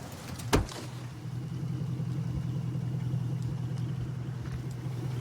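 A truck engine idles steadily at a traffic stop outside a motel, a low even rumble with a faint hum above it, preceded by a sharp click or thump near the start.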